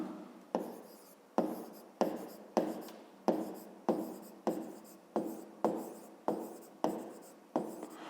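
A pen writes on paper in a run of about a dozen short, evenly paced scratchy strokes, each starting sharply and trailing off, close and fairly quiet.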